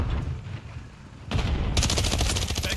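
Video game gunfire from a military shooter: dense, rapid bursts of automatic fire erupt loud and close after a quieter moment, sustained to the end.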